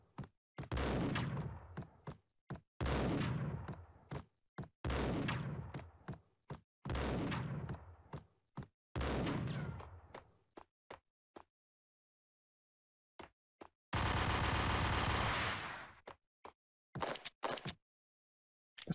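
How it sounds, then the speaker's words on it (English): Bursts of enemy gunfire in the Max Payne shooter game on PC, with several sharp shot clusters through the first half, a dense sustained roar near the end and a few scattered single cracks after it, separated by silence. "Where the fuck is she shooting me from?"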